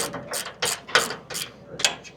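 A ratchet wrench snugs down DuroBump bump stop bolts on a GX470: short, loud bursts of rapid pawl clicking that repeat in quick succession, close up with no talk.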